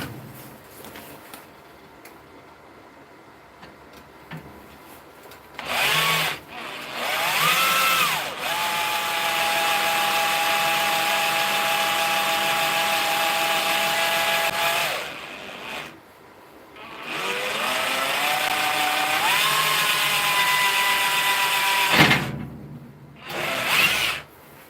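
Power drill whining as its bit bores in, with long sustained runs broken by short pauses, loud and close, the pitch rising as the motor spins up.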